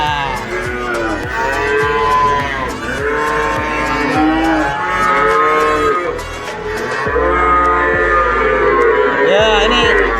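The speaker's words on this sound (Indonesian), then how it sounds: "ini contoh pedet guys" Young cattle calf mooing repeatedly on a farm in long, loud, harmonic calls one after another, close by, with other livestock sounds around and no talking.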